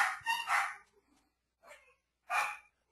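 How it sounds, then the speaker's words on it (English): Dogs bark in short loud bursts close by, a cluster of barks at first, then a pause, a fainter bark and another sharp one. "my dogs are going crazy."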